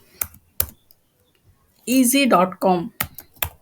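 Keystrokes on a computer keyboard, a few sharp clicks at the start and a quicker burst at the end, with someone speaking in between.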